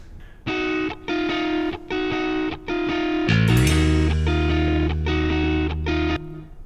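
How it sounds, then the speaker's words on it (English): Heavily distorted electric guitar plays a run of chopped, repeated chords in a steady rhythm, then a sustained low ringing chord takes over, loud and close with no talking. "It sounds like there's distortion, but that's just from the guitar"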